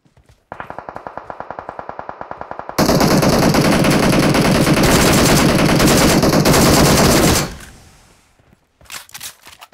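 In PUBG Mobile, a rapid string of game gunshots sounds, followed by a dense, loud burst of sustained automatic fire aimed at a car. The fire cuts off abruptly, then a few scattered shots follow.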